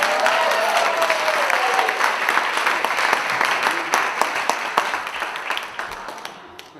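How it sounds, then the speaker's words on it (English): Wedding guests give a warm round of applause for the bride, Molly, during the father of the bride's speech: sustained crowd clapping with scattered sharp claps that gradually thin toward the end. "how about a round of applause for Molly?"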